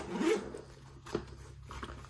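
Zipper on a hard shell range bag gun case being pulled open, with a close, quiet rasping zip followed by short rubbing sounds.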